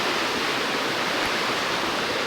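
Steady broadband roar of the waterfall at Margaret Falls canyon near Tappen, British Columbia, a continuous rushing wash of falling water heard close and alone, with no voices.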